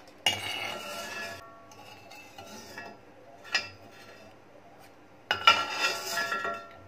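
Fried garlic pieces being scooped out of hot oil with a metal utensil while making garlic hair oil, giving a few distinct clinks and scrapes against the pan or bowl separated by quiet gaps.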